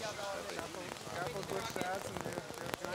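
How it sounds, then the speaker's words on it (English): Rain patters steadily on surfaces at an outdoor archery match, a dense close hiss with scattered drops, heard under a commentator's talk. "the rain picking up once again. It died down for a moment, but now picking up again"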